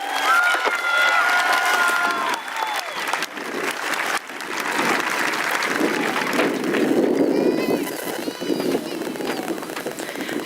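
Audience at a Russell County high school graduation applauds the student speakers: sustained, dense clapping with some cheering and whoops, filling the hall for about ten seconds.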